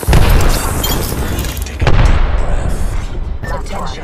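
A frag grenade blast in Apex Legends lands as a loud, heavy boom at the start, followed by a second deep thump and scattered gunfire and debris fading out.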